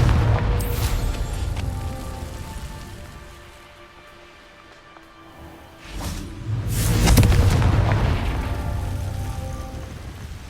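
Explosive Confringo spell in the video game Hogwarts Legacy: a sharp boom opens, the noise fades to a quiet lull, then a cluster of loud, crackling blasts bursts out near and full.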